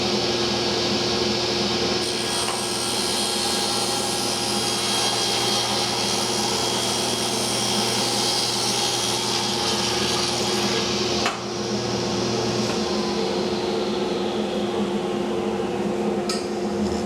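Power tool cutting a wood piece to width in a woodworking shop, a loud continuous whine and rasp over a steady dust-collector roar, with a brief dip near the end.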